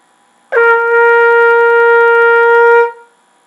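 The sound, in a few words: trumpet tone played with oo vowel shape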